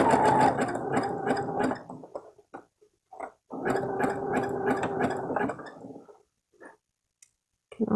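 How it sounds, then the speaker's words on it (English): A sewing machine fitted with a presser foot from a bead-and-rhinestone foot kit stitches slowly in two long runs of rapid, steady mechanical ticking, close and clear, separated by short pauses with faint clicks. "keeping it flat and sewing slowly"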